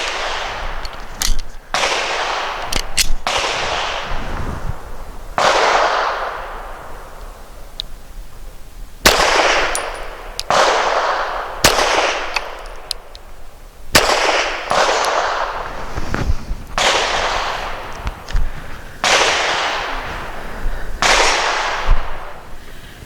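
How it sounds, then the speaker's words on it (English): A Girsan MC28SA pistol fires Stealth 165 grain subsonic rounds outdoors, roughly a dozen sharp shots at irregular intervals, each loud and close and followed by a brief ringing decay. "last is the Stealth 165 grain. These are the subsonic rounds."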